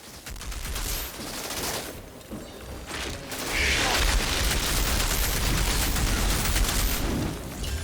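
Gunfire in the Outriders shooter game on PC, short feathered bursts giving way to sustained full-auto fire with booming impacts, loud and dense throughout.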